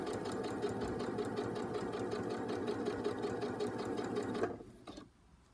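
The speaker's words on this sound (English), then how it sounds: "We're going to sew along." A sewing machine runs steadily while stitching in a zip, its fast even needle rhythm continuing for several seconds before slowing and stopping.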